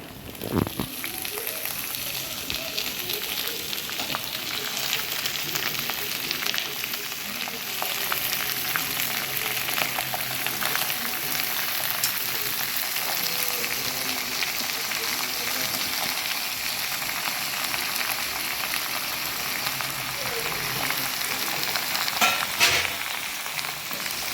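Washed spinach sizzles and fries in a hot pan, a steady broadband crackle holding at even loudness throughout with occasional stirring clinks and faint background voice.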